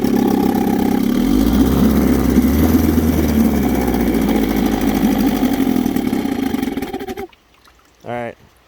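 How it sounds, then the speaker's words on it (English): Small single-cylinder engine of about 3 horsepower idles smoothly and loudly nearby, then cuts out near seven seconds, followed by a short voice. "What a smooth running motor."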